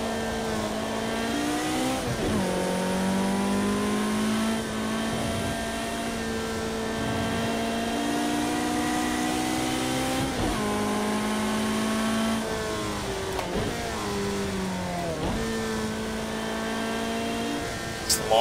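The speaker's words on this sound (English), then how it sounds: "It's basically a race car." A Ferrari race car engine in Project Cars 2 revs steadily and loudly through the gears, with repeated rising pitch sweeps and brief drops at each shift, continuous with no talk.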